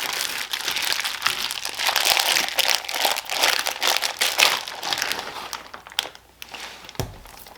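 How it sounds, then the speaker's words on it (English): Plastic packaging around a whole top sirloin crinkles and crunches as it is cut open, close and fairly loud, in a busy run of rustling handling that ends with a sharper snap. "So, start off by cutting our package open here."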